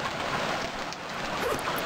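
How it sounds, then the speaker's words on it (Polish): Loud, dense rain in the survival video game Stranded Deep, a constant hissing downpour with faint rumbling beneath, steady for the whole moment with no talk. "Strasznie głośny jest ten deszcz."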